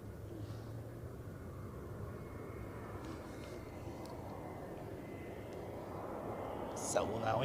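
Airbus A321 airliner arriving from Palma at Zurich Airport, a distant steady jet rumble that swells slightly toward the end, with a faint clatter near the close.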